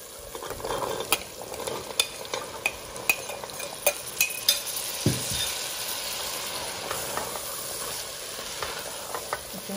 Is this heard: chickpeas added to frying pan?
yes